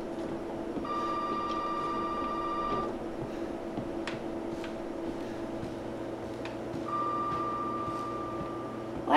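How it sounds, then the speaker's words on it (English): Telephone ringing in the Resident Evil 7 video game, with two long electronic ring bursts separated by a pause, set over a steady low ambient hum. "I'm surprised it's still ringing."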